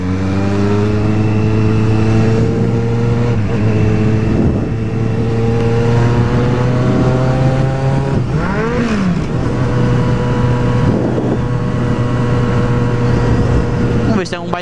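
A white Kawasaki Z750 motorcycle engine revs steadily on a night ride in São Paulo, its tone rising and dropping through downshifts with a sharp rev blip midway, loud and close, with a rider's voice talking over it.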